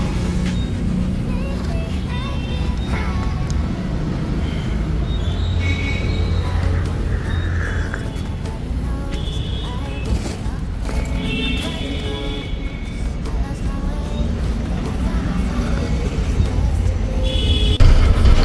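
A 415 tractor pulling a large, fully loaded trolley runs with a continuous low, rumbling engine drone, steady and fairly loud throughout, with rattling and faint voices mixed in.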